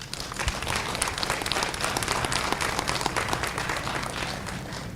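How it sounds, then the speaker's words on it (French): Audience at a leadership talk event applauds the guests, a dense steady wash of many hands clapping that fills the room evenly and continues without break. "Je vous prie, cher public, de vous applaudir et d'applaudir nos invités."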